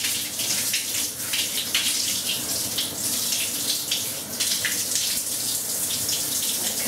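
Tap water runs steadily and fairly loud for several seconds, a continuous hissing splash into a basin while lukewarm water is left running until it turns cold for rinsing hair after a deep conditioning treatment.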